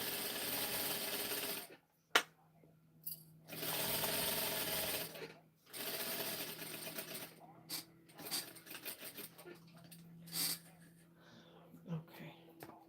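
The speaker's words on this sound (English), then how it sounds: "I'm gonna keep sewing, y'all" A sewing machine stitches fabric for a prom outfit in bursts, running steadily for a few seconds, pausing, then running again, with quieter handling noises and breathy sounds between runs.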